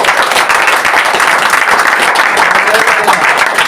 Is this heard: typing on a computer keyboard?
no